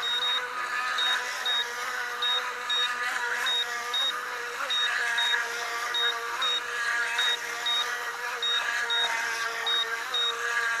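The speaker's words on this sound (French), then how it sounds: "depuis le temps que la télécommande bip" Remote control of a JJRC RC boat emitting regular short electronic beeps at an even pace over a constant high motor whine, steady and fairly close throughout.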